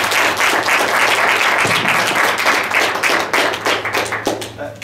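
An audience applauds at a university talk, a dense burst of many hands clapping that stays loud, then thins out into scattered claps near the end.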